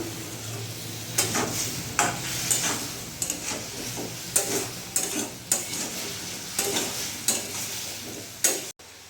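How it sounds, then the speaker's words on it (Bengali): A spoon stirs a prawn and gathi kochu (taro) mixture in a hot pan, scraping and clinking in repeated strokes over a constant sizzle of frying, up close and without voices. "এবার ভালো করে মিশিয়ে নেবো।"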